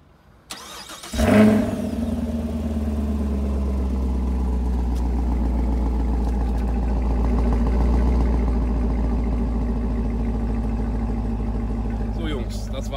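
A 2018 Chevrolet Camaro starts up with a sharp crank and catch, then settles into a deep, steady idle with mild swells of revving heard close by.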